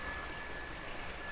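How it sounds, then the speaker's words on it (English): A swimming pool water feature at an ultramodern house, running as a steady, soft wash of splashing water with an even, continuous level and no voices. "you're dining tapos naririnig mo tong inyong water feature"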